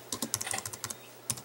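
Typing on a computer keyboard, a quick uneven run of close key clicks that pauses briefly and then ends with one last isolated tap.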